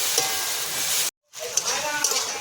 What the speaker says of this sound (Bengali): ভেজে রাখা চিংড়ি মাছ দিয়ে এবারে আবার আমি ভালো করে কচু শাকের সাথে নাড়াচাড়া করে রান্না করে নেব